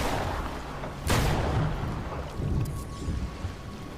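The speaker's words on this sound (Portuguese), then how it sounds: "Mano, eu tô atirando nela" A single gunshot in the Death Stranding video game: one sharp, loud crack rings out against a steady rain-like hiss and low rumble, followed by quieter ambient noise.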